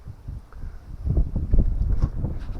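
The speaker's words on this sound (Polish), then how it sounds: "jest strasznie silny wiatr. Może w kamerce będzie słychać świsty." Gusty wind buffets the microphone with low rumbling thumps that swell and fade, growing stronger toward the middle.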